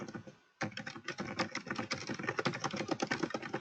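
Rapid, dense typing on a computer keyboard starts after a brief silence and continues in an uneven clatter of close, crisp keystrokes with no talk over it.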